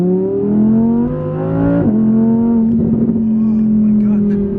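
A 2018 Audi R8 V10 RWD engine pulls hard with a loud, rising tonal howl, dips sharply at a gear change, then climbs again. An excited voice talks over it.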